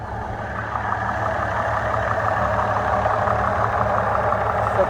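A 2005 Chevy Trailblazer with its 4.2 engine running at a steady idle, a close, even low drone with a faint rhythmic pulse, no voices over it.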